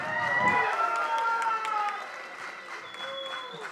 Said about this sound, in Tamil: கைத்தட்டல் அவருக்கு தனியா இருக்கு.